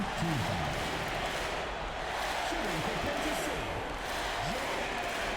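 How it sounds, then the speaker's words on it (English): Arena crowd in the NBA 2K22 basketball video game breaks into a loud, sustained MVP chant, a continuous roar of many voices with rising and falling shouts, heard during a playoff game's free throws. "the crowd with the MVP chant"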